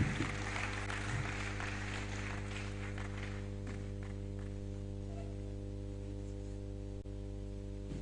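Audience applause for the Vice Chancellor at a university anniversary lecture in a hall, a dense clatter that is strongest at first and fades over several seconds over a steady electrical hum.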